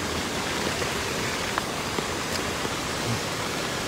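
Rainwater rushing down the Barranca de las Campanas ravine in Huajuapan, Oaxaca, a steady, dense broadband roar like a waterfall or stream, loud and unbroken throughout, with no voices.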